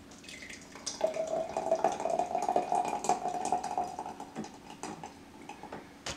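Captain Morgan rum pours steadily into a glass for a few seconds, a soft continuous trickle with faint clinks and taps, fairly close and quiet.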